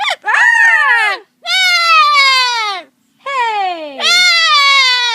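A parrot mimics a girl's scream with four long, shrill, wavering screeches, each falling in pitch, loud and close with short pauses between.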